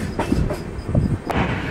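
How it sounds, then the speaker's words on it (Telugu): The Venkatadri SF Express, running from Chittoor to Kacheguda, rumbles across the Tungabhadra river bridge with a steady rolling drone, faint clicks from the wheels and one sharp metallic clank near the end. "తుంగభద్ర రివర్ని అయితే క్రాస్ చేస్తుందండి మన ట్రైన్ అయితేనండి"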